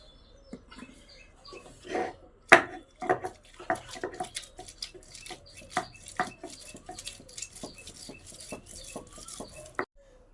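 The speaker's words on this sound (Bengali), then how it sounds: "ভেজানোর কিশমিশগুলো বেটে নেব।" Soaked raisins being ground into a paste for a katla fish raisin kalia, heard as close, uneven bursts of scraping, knocks and clinks that stop and restart, with a sharp knock near the start and a brief faint murmur of voice.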